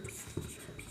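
A pen writing on paper during a maths lesson gives faint, close scratching for about a second.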